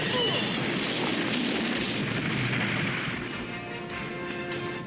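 A cartoon explosion as a prison is blown apart, a loud sustained roaring blast with rumbling debris that slowly fades away over several seconds.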